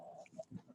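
Chickens and roosters on a farm cluck faintly in a few short, separate calls, quiet and somewhat distant, with low background hum between them.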